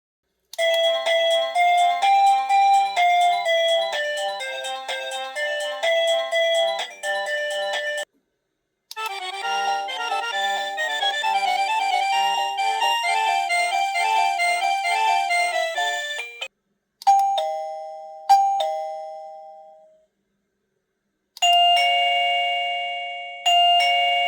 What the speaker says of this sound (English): Let me show you all 4 of the chime ringtones.